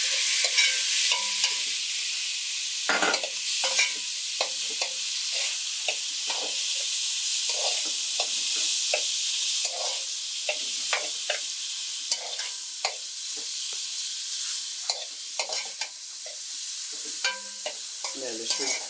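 Curry powder fries in a pot for Jamaican curry shrimp with a continuous bright sizzle, broken by frequent scraping strokes of a spoon stirring close by.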